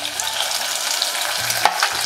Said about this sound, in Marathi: कांदा आपण छान भाजून घेऊया